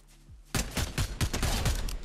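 Loud, close bursts of rapid automatic gunfire from a gun in the Fortnite video game, following a brief quiet moment, with the shots firing in quick successive volleys and no voices.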